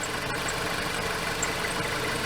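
A 2008 car with over 200,000 miles idles steadily, its engine giving a continuous even rumble with a slight vibration and no breaks.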